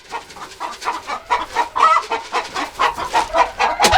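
Chickens clucking steadily in a close, busy chorus on a farm in December, with overlapping short calls and a few sharper squawks.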